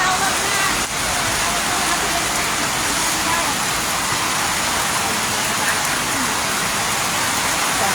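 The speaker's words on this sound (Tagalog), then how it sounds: "patuloy pa rin yung ulan" Heavy rain from Typhoon Enteng pours down in Antipolo City as a dense, constant roar of water hitting surfaces, steady and loud throughout with no pause.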